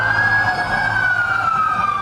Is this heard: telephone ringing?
no